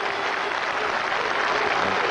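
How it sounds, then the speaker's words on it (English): Cricket crowd and the West Indies team applaud Sherwin Campbell at a Zimbabwe v West Indies one-day international in 2000, a steady, dense wash of clapping that holds evenly throughout. "Jimmy Adams and the whole of the West Indian team stand to applaud him"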